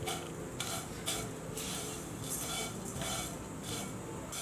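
Vermicelli roasting in ghee over a low flame gets stirred in a pan, giving soft scraping strokes that repeat about every half second over a faint background sizzle, quiet and close.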